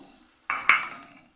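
Okra tipped into a pan of potatoes already frying in oil gives a sudden sizzling burst followed by a louder hiss, then a fading sizzle with a light clink of utensils.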